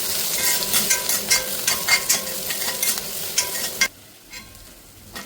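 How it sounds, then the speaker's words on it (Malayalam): Crushed spice mixture is stirred into parippu (dal) frying in a pan, with steady sizzling and scraping strokes that stop abruptly near the end, leaving only faint sizzle. "ഈ ചതച്ചെടുത്ത കൂട്ടിനെ ഇതിലേക്ക് ഇട്ട് കൊടുക്കാം. എന്നിട്ട് നല്ലവണ്ണം ഒന്ന് ഇളക്കിയെടുക്കാം"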